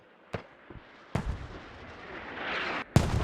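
Enemy mortar rounds land in the Squad video game: a few sharp, separated booming impacts, with a rising rumble between them and a final loud blast at the end.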